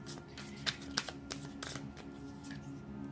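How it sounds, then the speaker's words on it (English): Tarot cards are riffled and shuffled in a quick series of soft, crisp flutters and snaps, close by in a quiet room. "Do one more shuffle"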